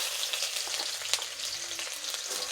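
Chopped onions frying in hot oil in a pan, a steady dense sizzle with faint crackles, close and continuous with no talking.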